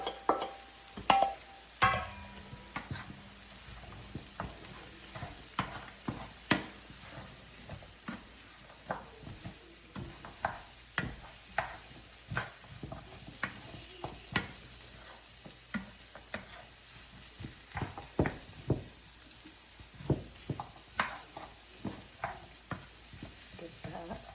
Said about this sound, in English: To the pot with the onions and garlic, I'm going to add in my broccoli and carrots.